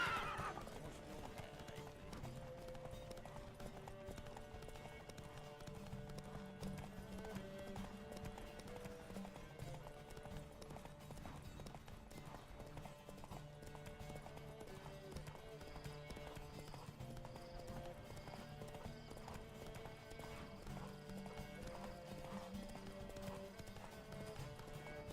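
A horse gallops with rhythmic clip-clop hoofbeats and neighs during a race in The Witcher 3 video game, steady and fairly quiet under the game's music.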